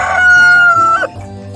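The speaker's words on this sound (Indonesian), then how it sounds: "ayam jantan yang suaranya keras sekali" A rooster crows once, loud and close, in one long drawn-out call that fades into quiet farmyard background.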